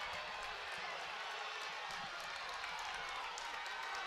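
Crowd cheering at a 4x8 relay race, a broad steady roar of many voices carrying across the whole stretch, with an announcer talking over it.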